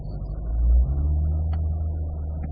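A C8 Corvette creeps up to an autocross start line, its engine giving a steady low rumble that swells briefly early on, then settles into an even idle-like drone with no voices.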